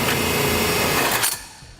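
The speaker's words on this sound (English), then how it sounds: "we'll take our hole saw again, go through our bed liner." A high-pitched whirring hole saw grinds steadily through a truck bed liner, loud and close, then cuts off abruptly, leaving a faint quieter hum.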